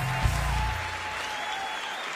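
An awards-ceremony audience applauding and cheering, a loud burst of clapping with a brief shout at the start that settles into steady sustained applause.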